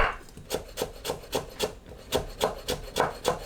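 A knife cuts carrots into thin julienne strips on a wooden cutting board, striking in a steady, fairly quick rhythm of about a dozen crisp chops, close and clear with no talking.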